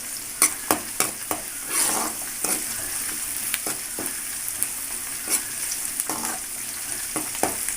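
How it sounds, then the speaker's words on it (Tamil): Food for a chickpea sundal kuzhambu sizzles steadily in a pan while a spatula stirs it, with repeated sharp scrapes and clacks against the metal over a continuous frying hiss, close by and with no talking. "இப்போ இதை வந்து நல்லா கிளறி விட்டுடலாம்."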